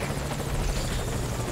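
A helicopter flies in within the video game Metal Gear Solid: Ground Zeroes, its loud, dense rotor chop filling the mix continuously and evenly throughout.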